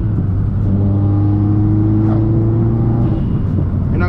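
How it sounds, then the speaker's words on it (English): A Subaru WRX making over 400 wheel horsepower revs hard with a steady, loud engine drone and harmonic whine, the pitch holding through a close, continuous rev with brief flutters near the end. "The downshift are so crispy."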